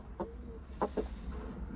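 A few short, soft clucks from a large white rooster, spaced irregularly over quiet background noise.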